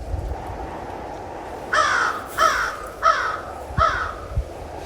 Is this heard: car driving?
no